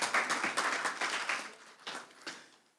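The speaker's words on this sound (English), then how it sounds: "So can you give yourselves, and we'll give you a round of applause." A short round of applause from the audience at the launch of a payments system vision, dense clapping that thins out and fades to a few scattered claps.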